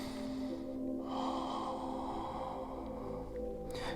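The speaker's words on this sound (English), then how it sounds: "Take 5 more breaths." Slow, deep nasal breathing during a held yoga pose in a home workout, with a long drawn inhale and exhale heard close and steady over a constant background hum.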